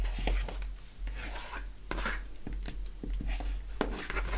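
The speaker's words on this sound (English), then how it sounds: "I'm going to trim up one side and along the top." A rotary cutter trims quilt block fabric along a ruler, giving close, faint scraping and rasping strokes with small taps and knocks from the ruler and a low steady hum underneath.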